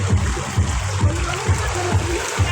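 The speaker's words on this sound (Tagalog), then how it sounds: "Pumasok nga yung tubig." Floodwater sloshes and splashes around a car driving through a submerged road during heavy rain, with rhythmic low surges repeating about every half second, close and steady.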